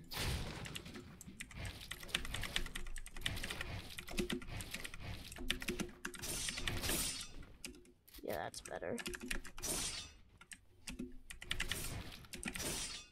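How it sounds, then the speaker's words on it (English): Noisy computer keyboard clattering in rapid, dense bursts during online gameplay, close and busy, with a voice talking over the typing. "my keyboard is really noisy"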